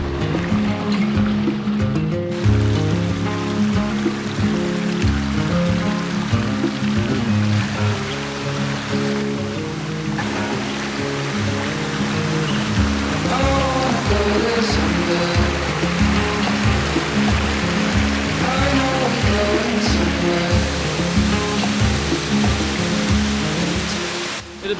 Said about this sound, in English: Full waterfall.